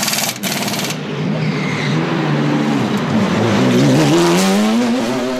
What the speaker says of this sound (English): The car has picked up a puncture on debris.